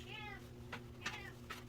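A house cat gives a drawn-out meow from close by, then a few shorter meows in quick succession over a low, steady hum.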